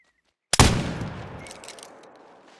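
A single loud rifle shot fired at a whitetail deer in the hunting game Call of the Wild, a sharp crack after silence followed by a long rolling echo that fades over two seconds.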